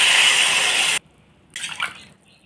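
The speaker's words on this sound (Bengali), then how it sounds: "মশলাটা দেবো করে রেখেছি পেঁয়াজ বাটা সরষা জিরা বাটা পিঠার আলুকে সরিষা বাটা আর পেঁয়াজ বাটা দিয়ে লাউড়ে জল ঢেলে দিলাম" Water pours into a pot of bottle gourd curry with mustard and onion paste in a loud, steady rush that cuts off abruptly after about a second, followed by a brief gurgle and splash.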